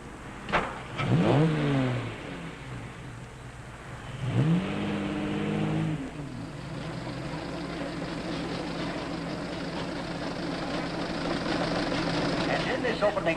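Antique cars starting a race in a 1955 film, engines revving and roaring past in two loud sweeps, then a sustained drone of several motors running together, with voices briefly audible at the start.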